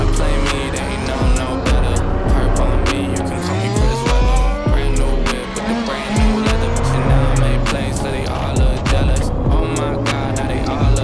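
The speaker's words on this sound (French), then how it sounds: "Je vais faire un départ. La BMW thermique en 1/5 contre la GT4." A gas-powered 1/5 scale RC BMW races a Porsche GT4: a loud, buzzing two-stroke engine revs up and down in rapid sweeps, with bursts of tire squeal throughout and no talking.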